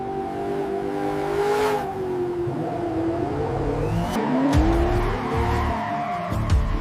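A drift car skids and its tires squeal in drawn-out rising whines over a steady, loud engine roar, with sharp bursts of tire noise near the end.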